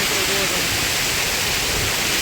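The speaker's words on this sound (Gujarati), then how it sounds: "પાણીનો ધોધનો તમે જુઓ કેવું જબરદસ્ત પાણી પડી રહ્યું" Water pours down the Kundi waterfall in a dense, continuous rushing roar that fills the whole moment, with voices faintly mixed in.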